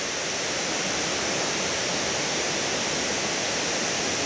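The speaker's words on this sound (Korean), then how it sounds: "물소리가 끊임없이 납니다 끊임없이" A 33-metre mountain waterfall pours without pause, filling the air with a loud, constant broadband rush of falling water close by, with no voices.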